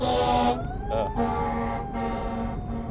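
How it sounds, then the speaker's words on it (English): A fire truck siren wails outside as it passes, loud wavering tones rising and falling in repeated sweeps that gradually ease off. "That was a fire truck."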